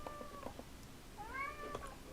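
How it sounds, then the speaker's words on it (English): A cat meows twice in the background of a quiet room, a short call followed by a longer rising one, soft and somewhat distant, with no talking over it. "Please excuse my cat in the background."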